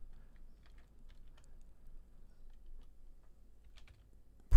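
Quiet, scattered clicks of typing on a computer keyboard during Python coding, a few soft keystrokes spread across the stretch, ending in a short louder bump.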